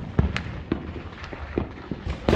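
Firecrackers and fireworks at a Fourth of July celebration pop in an irregular string of sharp, moderately distant cracks, about a dozen over a couple of seconds.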